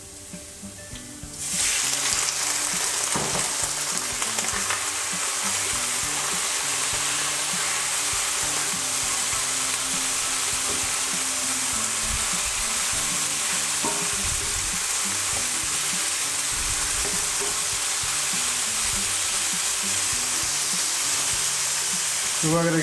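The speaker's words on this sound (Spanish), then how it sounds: "Luego agregamos los camarones." Shrimp sizzling and frying in a hot pan for fried rice with garlic, a loud steady crackle that starts abruptly and holds continuously, with occasional stirring clatter.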